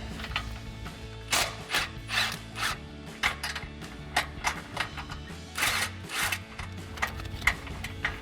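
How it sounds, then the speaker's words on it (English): A ratchet with an 18mm socket removing nuts on a Jeep Gladiator clicks in short repeated bursts over a low steady hum. The clicking is close and moderately loud, with no talking. "And then we'll grab our 18mm socket to remove our 2 nuts."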